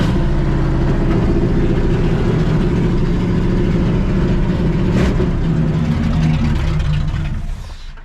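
Carbureted Dodge Ramcharger engine idling loud and close with a rough, steady rumble, then sputtering and dying away as it stalls at the end.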